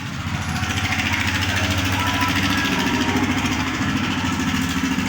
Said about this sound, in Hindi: थोड़ा सा साइन बाजू में ट्रैक्टर वगैरह चल रहा है तो थोड़ा सा आवाज़ आ गया था